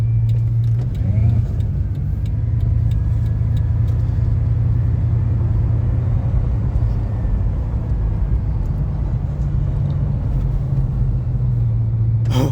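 Bugatti Veyron engine accelerating at roughly three-quarter throttle, heard from inside the car as a loud, steady deep roar and rumble that holds for the whole stretch, with voices faintly under it.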